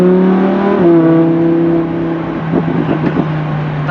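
A Lamborghini Huracan engine heard loud and close from inside the car, holding a strong droning tone that drops in pitch as the throttle eases, then settles into a lower, burbling rumble.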